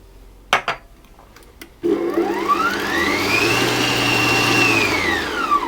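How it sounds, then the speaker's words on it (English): An electric mixer whisks egg and vanilla extract in a bowl for whoopie pie batter. A few clicks and knocks come first, then a loud, steady motor whir starts up close, its pitch rising and falling slightly. "I'm going to add my egg and my vanilla extract, and I'm going to whisk those until they're fully combined"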